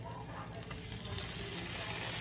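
Sandwich buns toasting in a pan, giving off a continuous close sizzle and crackle that holds steady for a couple of seconds with no talk.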